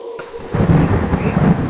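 A cartoon thunderclap rolls through a rainy night storm, a loud, deep rumble that swells and holds over the hiss of rain, with no voices.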